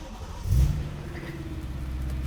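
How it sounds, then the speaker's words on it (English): A BMW E90 M3 engine cranks and catches after a battery replacement, a brief loud burst of starter and ignition settling into a steady low idle rumble close by. "we'll just make sure the car still starts"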